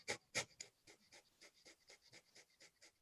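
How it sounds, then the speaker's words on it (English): Rapid, forceful nasal breaths of a breath-of-fire breathing exercise, two sharp strong puffs followed by a quick even series of softer rhythmic exhalations, close and alone. "if you do that for an entire minute, that's called the breath of fire"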